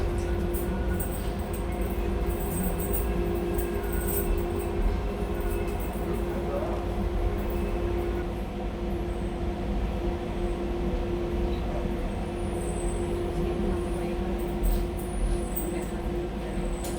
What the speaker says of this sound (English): We're just about to stop at Canary Wharf station.